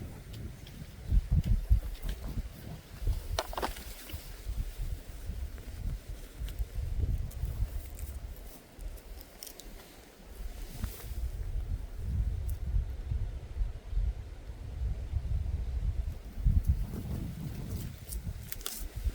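Gusty wind buffets the microphone outdoors beside an avocado tree in low rumbling surges, steady throughout with a few brief rustles, no talking.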